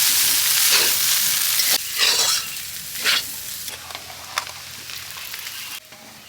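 Cabbage and chow mein being stir-fried for Manchurian, a steady broadband sizzle with intermittent louder bursts of stirring and tossing in the pan, close and loud throughout, no talking.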